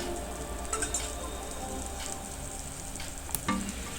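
Oil sizzles steadily on a hot pan while a South Indian dosa cooks, giving a continuous, close crackling hiss with a few sharper pops and no talk.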